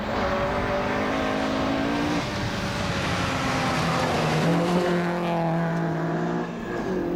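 A Hillman Avenger rally car with a bent axle drives on a Scottish national rally stage, its engine droning steadily and loudly with shifting pitch as it holds and changes revs, no voices over it.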